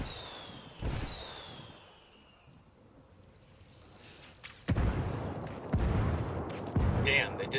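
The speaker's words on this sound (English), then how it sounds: "I called the rebels for some indirect fire." An artillery strike called in during Ghost Recon Wildlands: a high whistling shell passes overhead, then several heavy impact booms land in succession, growing louder toward the end.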